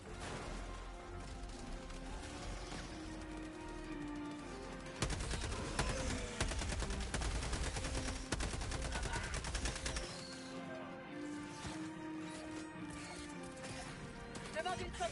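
Gunfire from the video game Helldivers 2: dense bursts of automatic shots and impacts under game music, heavier in the middle stretch, with voices talking over the action.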